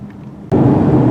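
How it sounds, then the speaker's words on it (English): Inside a 2017 Kia Sportage SX Turbo, the air conditioning suddenly switches to full blast, a loud, steady rushing roar of airflow that jumps up abruptly over a low cabin hum. "that's the air conditioning running full blast because it's 115 degrees outside"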